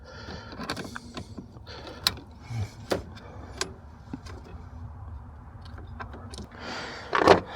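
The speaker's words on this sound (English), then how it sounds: "All right, let's put those hose clamps back." Hose clamps being refitted onto heater hoses while replacing the thermostat housing on a truck's Chrysler 2.4L engine: scattered sharp metallic clicks and snaps, a brief rattle near the end, close up in a quiet engine bay.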